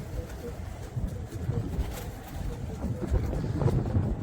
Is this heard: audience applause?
no